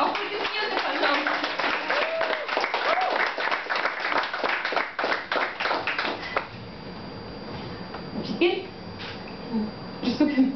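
An audience breaks into dense applause that runs for several seconds and then thins into a few scattered claps, with a speaker's voice heard over the tail.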